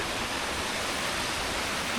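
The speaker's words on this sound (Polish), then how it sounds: "Piękny górski potok." A mountain stream in Italy flows steadily beneath a wooden footbridge, giving a constant broadband rush of water close by without any voices.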